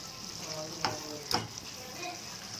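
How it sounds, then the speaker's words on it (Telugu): Spices for chicken biryani fry in a pan, a soft steady sizzle broken by two quick scraping strokes of a stirring spoon. "మసాలాలు పచ్చివాసన పోయేంత వరకు ఇలా కలుపుకోవాలి."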